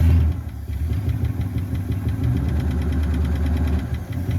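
An old barn-find car engine runs at a steady low rumble with a knocking, vibrating idle, straining against a stuck brake; loud and close, with no talk.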